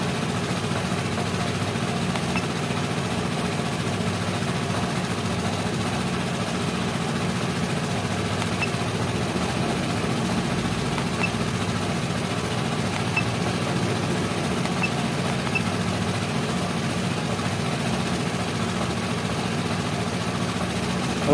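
Close by, a Vespa scooter idles at an even, unbroken hum that holds steady the whole time, with no voices on top.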